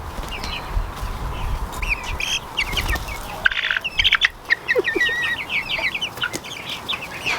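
Tiny Bantam and standard Buff Orpington chicks peep and chirp close by in a steady, busy chorus of high, bright calls, with a few louder cheeps standing out against a low background rumble.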